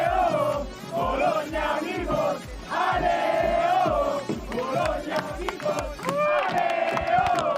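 Italian supporters chant in the grandstand at the Monaco Energy Boat Challenge race, with loud rhythmic crowd singing that swells and dips in waves and repeated shouted phrases, close and continuous.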